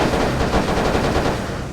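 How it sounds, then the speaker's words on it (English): Explosion sound effect from the Microsoft Minesweeper video game, a loud, dense rumbling burst with crackling, gunfire-like texture lasting under two seconds, with a sharp hit at the very end. "I gotta say the explosions are a new one for me"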